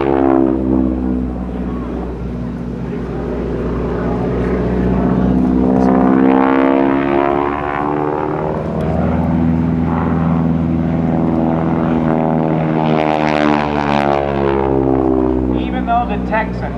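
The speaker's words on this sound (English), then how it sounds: "this was built in 1944, so it's a 63-year-old airplane" A 1944 North American Texan trainer airplane's propeller engine drones loudly and steadily, its pitch rising and falling as it passes nearby at an open house airshow.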